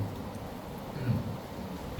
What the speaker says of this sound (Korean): 빗소리 때문에 비가 많이 나.